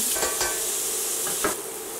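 Minced onion, one whole onion, sizzles and crackles in a hot pan, a steady hiss close up with a few brief stirring scrapes over it.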